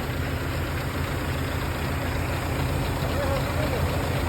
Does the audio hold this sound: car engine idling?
yes